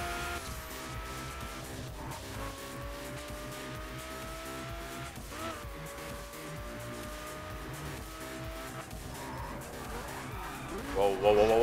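A car accelerates in the driving game The Crew, its engine note rising in pitch through several gear shifts over a steady rumble, with a tire squeal near the end and a voice speaking over it.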